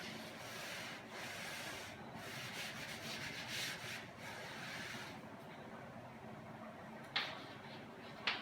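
Chalk writing being rubbed off a classroom board with a duster, a steady soft scrubbing under room noise that fades near the end, followed by a couple of brief taps.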